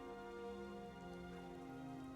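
Soft, steady rain patters in the background of a Skyrim game scene, faint and constant beneath a sustained tonal hum, with no voices.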